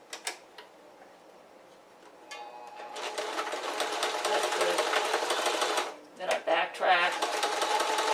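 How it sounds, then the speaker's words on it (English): A sewing machine stitches fabric pieces of a pair of shorts together, starting after a few light clicks and running steadily close by, then pausing briefly and restarting in short bursts before resuming. A voice speaks over it. "Basically, I'm just sewing the pieces together."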